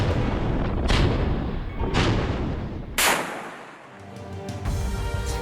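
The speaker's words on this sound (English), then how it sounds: "these vessels would unleash a barrage of cannon fire" Heavy booming blasts of destroyer cannon fire roll out in a barrage, three big reports spaced about a second apart followed by rumbling decay and fainter distant thuds.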